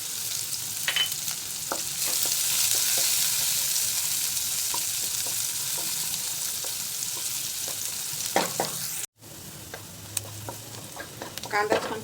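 Garlic and a small chopped onion sauté in a hot pan with a loud, continuous sizzle, broken by repeated spatula scrapes and stirs and a short gap near the end.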